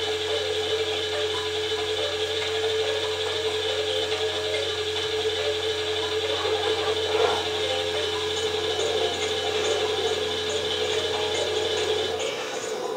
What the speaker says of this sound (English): Then you can just walk right onto this elevator right here.